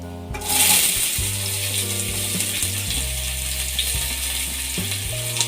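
Sliced onions with bay leaf, cinnamon stick and cloves sizzling in hot oil in a pan, a steady close frying hiss with some clanking and stirring, and no voices.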